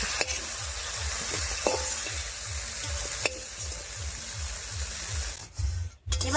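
Broad beans sizzle in a hot pan with oil while a spoon scrapes and stirs them in a steady rhythm, close up, with brief pauses near the end and no talking.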